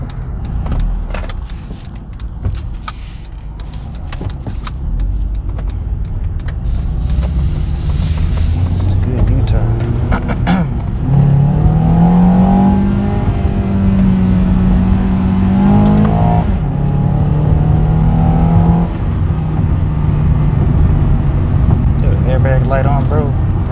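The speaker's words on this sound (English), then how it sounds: "we can try and drop it into the lowest gear" A 2010 Honda Accord LX sedan pulling away in its lowest gear, the engine droning steadily and its pitch rising as it revs, heard from inside the cabin with someone talking over it.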